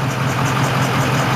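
A 1996 Powerstroke diesel truck engine idling close by, a steady, even rumble with a dense low hum and no talking over it.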